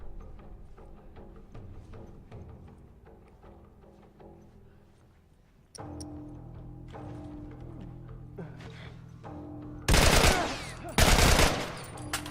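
Gunfire from an assault rifle in The Last of Us Remastered, with quiet game ambience and scattered shots that give way to two loud, close bursts of automatic fire near the end.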